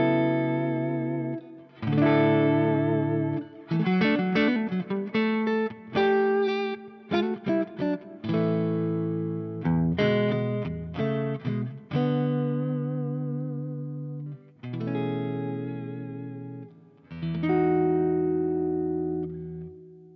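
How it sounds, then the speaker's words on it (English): An electric guitar plays a series of chords and phrases through a Morgan AC20 amp, starting clean and growing grittier and more distorted, with short pauses between passages. "I can get a really good clean sound, I can get an edge of breakup, and then a fairly dirty-ish sound"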